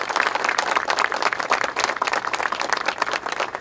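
An audience at a welcome-home ceremony for military veterans applauds, a dense, steady wash of many hands clapping together, fairly loud and continuous throughout.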